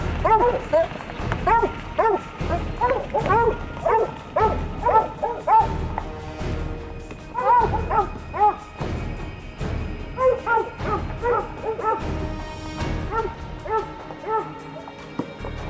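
Hunting dogs bark and bay repeatedly in an excited chorus, several voices overlapping close by with steady rhythmic yelps throughout.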